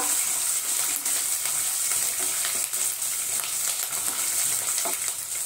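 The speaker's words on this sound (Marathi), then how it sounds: "इथे आपण हिरवी मिरची टाकून घेऊ।" Finely chopped green chilies fry in hot oil in a pan over medium heat, giving a loud, close, unbroken sizzle with occasional faint stirring scrapes.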